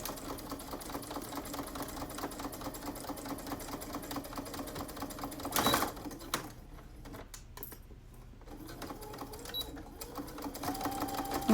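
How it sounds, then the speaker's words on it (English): A sewing machine top stitching the sides of a cloth face mask over elastic runs in a steady rapid needle rhythm up close, pausing briefly midway before stitching resumes. "We're going to top stitch the sides of the mask twice."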